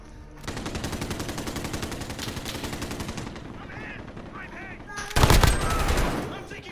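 Rapid automatic gunfire from the video game Call of Duty rattles in a long, dense, close burst for about three seconds, then a louder heavy volley breaks out after a short lull.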